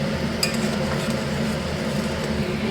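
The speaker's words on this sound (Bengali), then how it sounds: "এই যে আলু আর পনিরটা দিয়ে দিয়েছি, এখন কষাচ্ছি।" Potato and paneer sautéed with a poppy-seed spice paste in a pan, giving a steady low sizzle and stirring scrape with a brief clink near the start, close and continuous.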